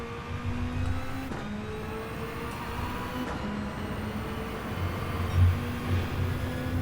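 Toyota GT-One race car engine in Gran Turismo 7 drones at moderate throttle, its pitch climbing slowly under a steady synthetic whine, with a couple of sharp shifts and brief surges, and no talk.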